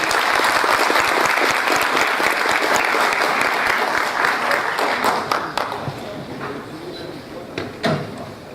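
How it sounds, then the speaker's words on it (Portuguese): Audience applause at a Brazilian heraldry award ceremony honoring a commander, dense clapping from many hands that holds steady, then thins into scattered individual claps near the end. "Nossos aplausos para o comendador Edson."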